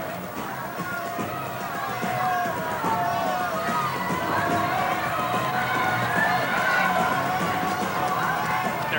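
A partisan crowd of about 10,000 fills an arena at a national men's basketball championship final, producing a loud, steady roar of cheering and hubbub that swells slightly midway and stays dense to the end.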